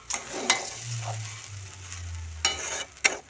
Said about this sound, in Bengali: চালটাও ভাজা হয়ে যাবে